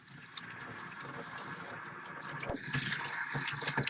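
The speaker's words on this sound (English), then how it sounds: "So we just start washing the screens and the brush, the small buckets." Running water pours steadily from a tap into a sink while a paint brush, small screens and buckets are rinsed off during residential house painting, with splashing and clatter picking up toward the end.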